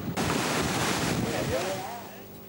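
Strong wind after a storm in Lộc Bình commune, Thừa Thiên Huế, with rising water, roaring as a steady broadband rush buffeting the microphone, then easing slightly toward the end.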